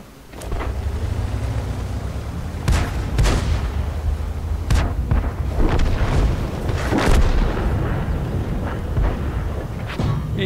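Cannon blasts in a train video game, several heavy booms spread over a constant loud rumble of the moving train, with no talking.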